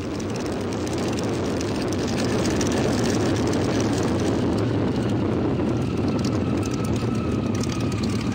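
A Stearman biplane's propeller engine drones steadily and loudly as it taxis for takeoff at the 2011 Hamilton Airshow, with a dense, continuous roar and no talking.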